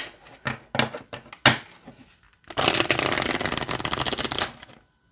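Tarot cards are riffled in a few quick, crisp bursts, then a longer continuous flutter of shuffling, close and fairly loud with no talking.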